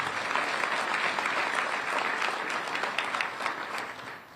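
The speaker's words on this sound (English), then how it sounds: "One more round of applause for Officer Antoine Patterson." Audience at a police community relations awards ceremony applauding an officer being honoured, a loud, sustained wash of many hands clapping that tapers off slightly at the very end.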